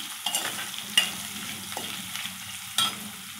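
Ginger pieces frying in a pan of oil for pulihora, a soft steady sizzle with occasional brief scrapes and clinks of a stirring spoon, close and fairly quiet, no voices.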